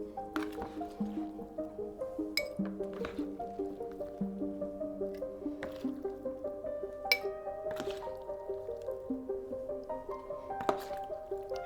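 Pickles are packed into a glass jar, with repeated clinks and knocks of pieces against glass and soft wet squishes in a steady, close rhythm, set over a faint hum.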